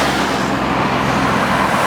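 Loud, steady roar of support vans, trucks and utes rolling past close by at a classic Indian motorcycle rally in New Zealand, engine and tyre noise blending into continuous traffic rumble.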